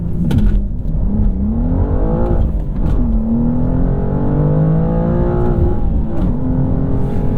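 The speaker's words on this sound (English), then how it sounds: "Hold the gas, release the clutch." A 2023 BMW M2 with a six-speed manual launches hard, its engine roaring loud and close as the revs climb through a gear, then dip and build again in a sustained accelerating drone.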